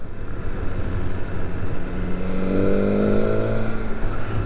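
A BMW S1000R Sport motorcycle accelerates hard, engine note climbing steadily with quick-shift upshifts giving brief dips in pitch, heard alone with steady wind rush throughout.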